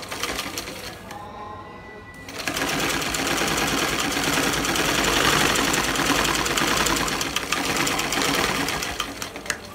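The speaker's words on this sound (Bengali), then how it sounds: "রাখার পর আমি এই উপরের দিক থেকে সেলাইটা করে নিচ্ছি।" A sewing machine runs steadily while stitching the upper edge of a salwar kameez panel, its close, continuous mechanical whir starting after a brief pause and holding through to the end.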